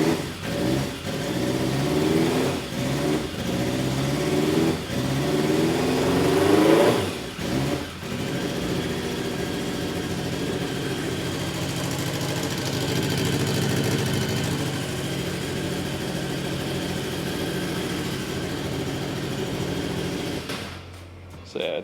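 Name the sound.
old motorcycle engine starting and running, revving then idling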